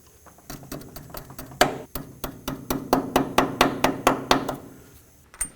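A cotter pin on a 1997-2003 Ford F-150 front axle is bent over by a run of about a dozen sharp metallic taps. The taps are close, steady and fairly loud, with no talking.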